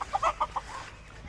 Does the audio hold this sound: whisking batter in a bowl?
no